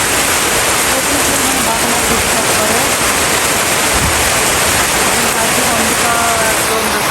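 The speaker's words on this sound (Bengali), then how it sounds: "হঠাৎ করে আবার মাত্র বৃষ্টি শুরু হয়ে গেলো" Heavy rain pours steadily outside, a dense, loud, unbroken hiss and rush filling the whole stretch, with a brief spoken word over it.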